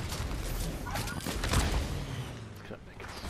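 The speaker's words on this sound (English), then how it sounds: "I just got headshotted by a hand cannon and hit with a DMR" Bursts of Fortnite gunfire from a hand cannon and a DMR crack sharply in quick succession, loud and close within busy game audio, with a player talking through it.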